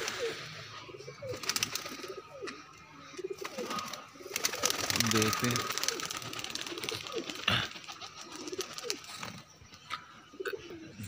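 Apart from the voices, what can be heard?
pigeons cooing and flying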